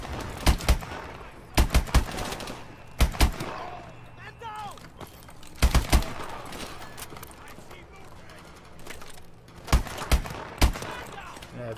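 Video game gunfire from the Call of Duty Advanced Warfare campaign: short bursts of sharp shots, two or three at a time, recurring every few seconds over background game sound and a speaking voice.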